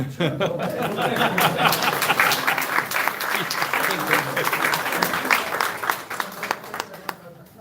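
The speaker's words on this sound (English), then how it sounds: "Can we please clap?" A room full of people at a city council meeting applauds steadily, with dense clapping that holds throughout and a few chuckles mixed in.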